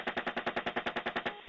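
A helicopter's cannon, in gun-camera footage, fires at a van in a rapid, evenly spaced burst of about a dozen sharp shots, each with a short ringing decay, until it stops.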